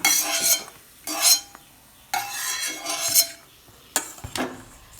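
Roasted cashews being mixed into green gram flour for ladoo, heard as several separate bursts of dry scraping and stirring with a spoon against a bowl, close and fairly loud, with quiet gaps between them.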